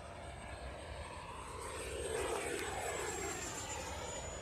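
E-flite F-16 Falcon 80mm electric ducted-fan model jet in flight, a steady whooshing whine with a high fan tone that swells and drifts as it passes, heard from a distance outdoors.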